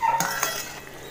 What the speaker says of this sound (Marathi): मिक्स कर पटापट